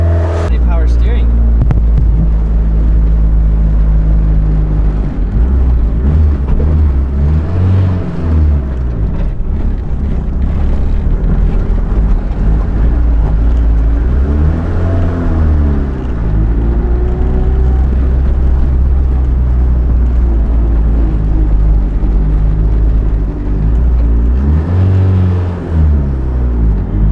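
A boosted Honda Civic hatchback engine running rich rumbles loudly and steadily for the whole stretch, with its pitch swelling and falling in a few slow rev waves, while people talk nearby.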